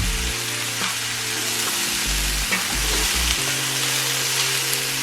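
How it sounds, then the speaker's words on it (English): Vegetables sizzle and fry without oil in a large skillet, a steady loud crackling hiss with occasional stirring scrapes and low pan knocks throughout. "So I'm just gonna let this brown up. Still, there's no oil, just the veggies in here."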